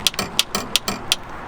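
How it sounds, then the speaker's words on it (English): Repeated clicking of a Honda Accord door handle latch mechanism, the linkage piece connected to the interior release lever, sounding as a steady series of about six sharp mechanical clicks close by, with no talking. "that little clicking is actually the piece that connects to the door handle so that you can open it with that lever"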